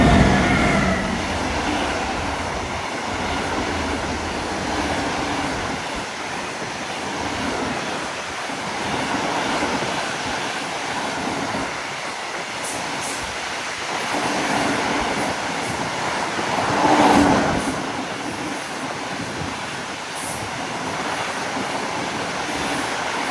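A Stadler Eurodual locomotive hauling a coal train past, heard as a long steady rumble and roar of rolling wagons that holds at a fairly even level throughout.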